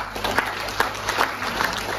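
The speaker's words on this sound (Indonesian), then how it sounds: "berikan tepuk tangan berkali" Seminar audience applauding during a property sales talk, a steady wash of clapping with a few distinct claps standing out, over a constant hum and background tone.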